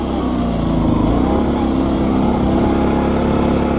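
A Kawasaki Brute Force 650 ATV in two-wheel drive revs at full throttle on a steep off-road park slope, its engine droning loud and steady throughout with the tires spinning, close to the listener.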